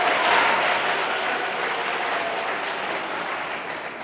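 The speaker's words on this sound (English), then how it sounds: "A round of applause for Fuhad, please" Applause fills the room for a contestant at a school maths quiz show. It is a dense, continuous wash of clapping that fades slowly over four seconds.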